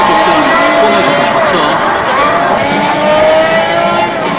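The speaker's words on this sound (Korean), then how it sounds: "지금 현재 라이브 레이싱 게임 대회" Engines roaring from an Xbox 360 racing game played at a live children's day tournament in a store, a loud continuous revving drone with shifting engine pitch, mixed with an announcer's voice and crowd noise.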